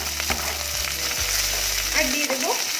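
Capsicum and onion sizzling and frying in a pan, a steady close hiss with a few stirring scrapes and clinks over roughly three seconds, no talk.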